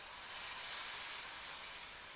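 Water poured into frying masala for a tomato fish gravy sizzles with a steady, bright hiss that holds evenly for a couple of seconds, close and fairly quiet, with no talking.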